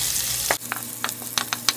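Chopped ginger, garlic and green chilies hit hot oil with a sudden loud sizzle, followed by a steady frying hiss broken by sharp crackles and pops, close and without talk.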